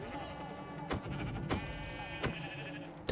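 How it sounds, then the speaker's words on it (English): Sheep in the video game Minecraft bleat three times, short nasal calls spaced about half a second apart over a quiet background, ending with a sudden clatter. "Hello, sheep."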